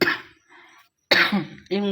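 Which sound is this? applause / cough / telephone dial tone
cough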